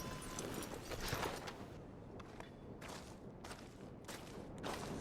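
Horse hooves clip-clop in Red Dead Redemption 2, a series of uneven hoof strikes in short bursts with brief gaps, fairly close and moderately loud, with no voices.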